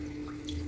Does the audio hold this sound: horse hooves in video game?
no